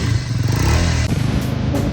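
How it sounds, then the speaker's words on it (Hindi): A motorbike engine on an off-road mountain route in Spiti Valley rumbles loud and close, with a throbbing, uneven low growl and a brief dip partway through. "और इस बाइक की आवाज़ मुझे जबरदस्त आई।"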